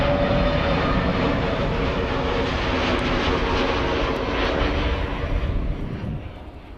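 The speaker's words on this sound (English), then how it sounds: "Singapore Airlines cargo arrival from LAX flight 7319, a Boeing" Singapore Airlines cargo Boeing jet arriving from LAX at Amsterdam Schiphol, a loud, close, steady broadband engine roar that holds for most of the span and begins to fade near the end.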